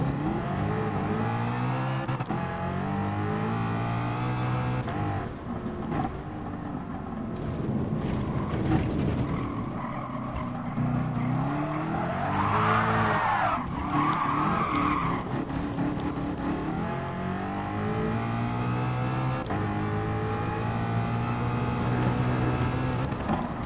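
A race car in a racing video game slides and skids off the track, with a continuous whining engine and tire screech running loudly throughout and rising and falling in pitch, with no talking.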